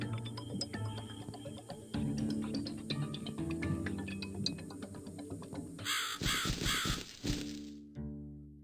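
Crows caw repeatedly in the horror video game The Cat Lady, the harsh calls standing out clearly over a dark, ticking ambient game score before a louder burst of sound near the end.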